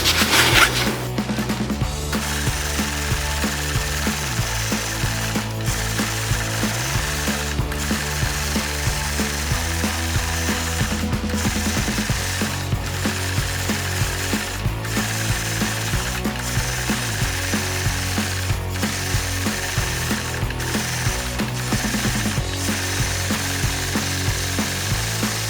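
A sewing machine free-motion quilting a feather border on a quilt runs in a rapid mechanical stitching rattle, close and steady, with brief pauses as the speed changes.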